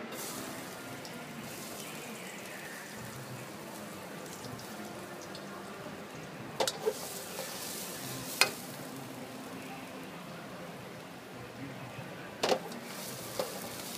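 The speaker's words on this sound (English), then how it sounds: "So the oil is already hot now. I'll put some garlic." Garlic frying in hot oil on medium heat in a kitchen, giving a steady soft sizzle throughout with a few brief clicks and taps of a utensil.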